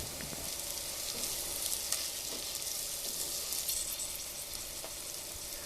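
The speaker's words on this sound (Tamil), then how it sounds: "சோம்பு நல்லா பொரிஞ்சதுக்கப்புறமா பொடி பொடியாக அரிஞ்சு வச்சுருக்கிற சின்ன வெங்காயம் சேர்த்துட்டு நல்லா வணக்கிட்டு" Finely chopped shallots frying in hot oil with fennel seeds for an egg curry, a steady close sizzle that stays even throughout with faint stirring, no voices.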